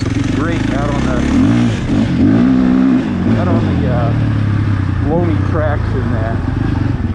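A 2021 KTM 450 Factory Edition dirt bike engine revs repeatedly in sharp throttle blips over a rumbling idle, loud and close, with someone talking over it.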